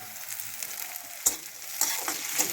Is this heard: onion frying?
yes